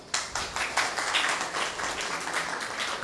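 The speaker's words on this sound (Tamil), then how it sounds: "கைத்தட்டுங்க." Scattered audience clapping at a Tamil religious discourse on the life of Abhinava Vidyatheertha Mahaswamigal, a modest, fairly soft round of hand claps that starts sharply and settles into an uneven patter for about three seconds.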